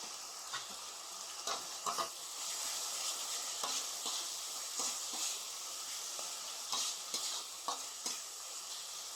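Spice masala sizzles and hisses in a pan for fish head muri ghonto, steady frying with repeated scraping stirs at irregular intervals, close and alone without talk.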